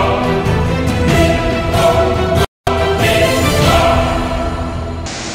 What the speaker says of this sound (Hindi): गुजरात के गिर सोमनाथ में जामजीर झरने ने लिया रौद्र रूप अख्तियार कर लिया है